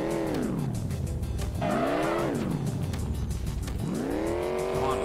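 A car engine in the Enviro-Bear 2000 video game, revving up and down in repeated swooping whines with tire squeals, loud and steady throughout with no talking.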